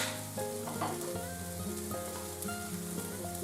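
Butter melting and foaming in a hot pan while making beef stroganoff, a dense steady sizzle with faint bubbling, close and continuous with no talk.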